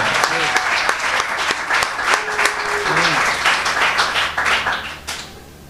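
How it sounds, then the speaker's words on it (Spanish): Church congregation breaks into sustained victory applause during a sermon, dense clapping with shouts and vocal whoops over it, steady and loud throughout. "Levanta ese aplauso de victoria."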